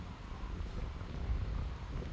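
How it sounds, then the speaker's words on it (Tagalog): Cold wind blows at Crescent Beach, producing a low, steady rumbling buffet over the microphone that is fairly quiet and continuous, with no talking. "Ay, lamig, mahangin talaga."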